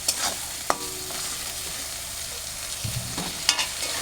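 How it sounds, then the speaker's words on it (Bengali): Fish curry with potatoes being sautéed in a pan, a soft continuous sizzle with a few clinking stirs and scrapes of the spoon, no voices. "তো আমি এটা এখন ভালো করে কষে নেব আলু দিয়ে"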